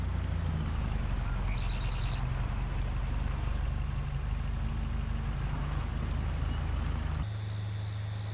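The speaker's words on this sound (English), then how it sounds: "Jake hopped in his truck and headed into town" A pickup truck drives along a rural road toward town, its engine a steady low rumble throughout, with a faint high whine above and a brief beeping in the middle; the tone shifts near the end.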